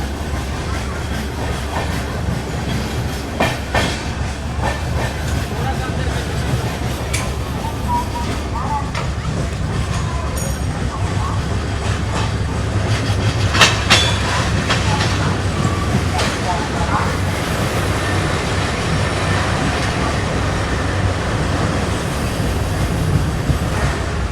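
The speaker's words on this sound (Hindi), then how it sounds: "स्किप कर रहे हैं वलसाड रेलवे स्टेशन को स्लो स्पीड में।" The Darshan Express rolls slowly through Valsad station during track and sleeper replacement work, with a continuous close rumble and rhythmic clickety-clack of wheels over rail joints.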